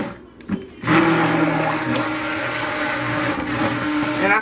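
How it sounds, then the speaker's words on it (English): A stick blender whirs steadily through soap batter for homemade hot process soap, switching on after a short clatter and then running loud and continuous up close. "so I'll go with my stick blender now"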